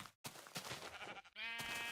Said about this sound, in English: Suicidal sheep.